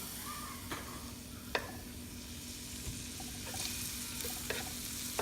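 Garlic sautés in a pan while honey butter fried chicken wings are being made. A soft, faint sizzle runs throughout, with a few light clinks and scrapes of a utensil scattered across it.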